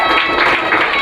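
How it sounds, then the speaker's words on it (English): Live stand-up comedy audience in a club breaks into loud, steady applause and cheering as a comedian is brought to the stage, a dense continuous wash of clapping and crowd noise filling the whole moment. "Give him a big round of applause"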